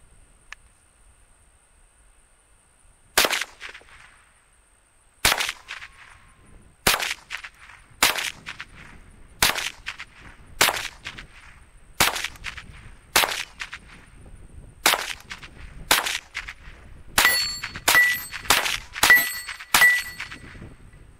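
Two .22 rimfire rifles, a Marlin Model 60 and a Ruger 10/22, firing at steel targets: about a dozen sharp cracks spaced a second or two apart, quickening into a rapid string near the end, each followed by a bright metallic ring.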